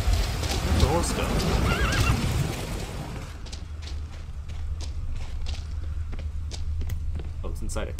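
A horse in the game Witcher 3: The Wild Hunt whinnies loudly in a long shaky neigh, then its hooves clip-clop at a steady trot for several seconds over a low rumbling background.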